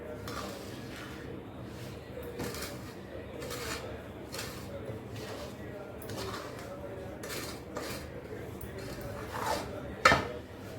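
A spoon scrapes and clatters steadily against a pan as mung dal ladoo mixture is stirred, a dense continuous metallic rasping with a sharper clink near the end.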